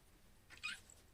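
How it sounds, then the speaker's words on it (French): Yuna, a small female cat inside a converted Vasp bus, gives a single short meow, very faint and distant against quiet background hiss. "Ouais, miaou."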